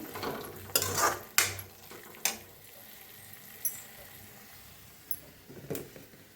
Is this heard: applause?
no